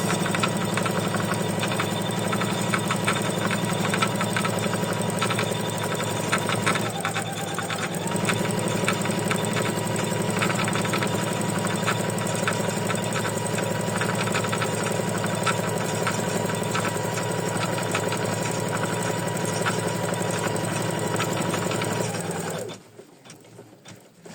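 An embroidery machine stitches a lacy lavender ornament design with a steady, loud, rapid mechanical chatter and hum that runs unbroken for a long stretch, then stops abruptly near the end.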